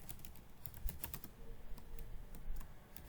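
Typing code on a computer keyboard produces a quick, steady patter of light key clicks, close and fairly quiet, with no talking.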